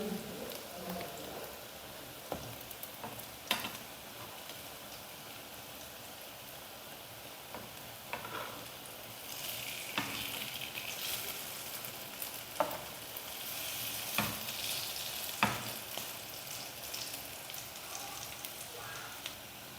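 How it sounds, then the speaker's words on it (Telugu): Sweet potato mini cakes frying in oil, a continuous crackling sizzle like light rain throughout, broken by occasional clicks and taps of a utensil against the pan. "సో ఇలా అయితే ఆయిల్లోని మనం కొంచెం ఫ్రై చేసుకుంటే సరిపోతుంది."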